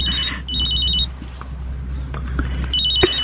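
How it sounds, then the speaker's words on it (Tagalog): A cellphone rings in a home during a Filipino TV drama scene, repeated electronic ring bursts sounding twice against a low steady hum, fairly loud and close with no talking. "Ma, nagre-ring ang cellphone niyo."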